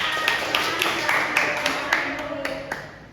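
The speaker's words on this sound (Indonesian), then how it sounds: "Beri tepuk tangan kepada kelompok 2 dari Tri dan Dea" Light, scattered clapping comes from a classroom of pupils applauding a discussion group. Voices murmur under the uneven taps.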